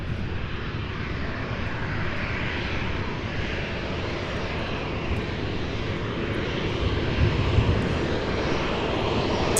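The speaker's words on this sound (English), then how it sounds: "up close personal look at the Delta 737" A Delta Boeing 737 roars close by with a steady, loud engine drone, dense rumble and whine holding level throughout with no voices.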